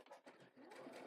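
A sewing machine stitches a zipper bag in short, rapid bursts of needle chatter, close and quiet, with brief pauses between runs.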